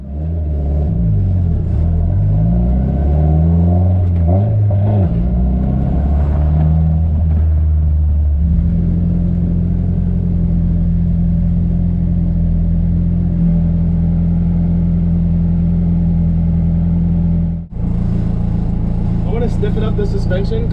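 A Nissan S14 with a refreshed engine drives along, a loud steady rumble that rises through revs and shifts from inside the car, while people talk over it.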